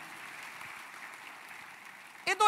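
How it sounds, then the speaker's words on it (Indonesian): Congregation at a church service applauding, a steady wash of many hands clapping at moderate distance, ending in a louder burst at the close. "tepuk tangannya meriah buat Tuhan kita"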